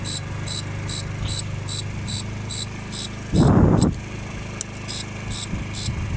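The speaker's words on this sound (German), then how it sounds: "wenn jetzt der Motor läuft, hört man das Summen im Hintergrund da" A Luxxon Eco 50 electric scooter's motor gives a steady low hum in the background, overlaid by a regular high chirping pulse and a brief burst of louder noise midway.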